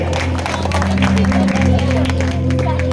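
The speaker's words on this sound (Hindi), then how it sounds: "एक बार इसके लिए भी तालियां होनी चाहिए" An audience at a live entertainment show breaks into dense, continuous applause, crowd noise mixed in. A steady low hum runs underneath the whole time.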